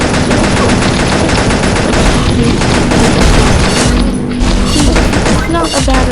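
Upgraded combat rifle in the video game Pixel Gun fires in a loud, rapid automatic stream of shots, dense and continuous with thuds and explosions mixed in.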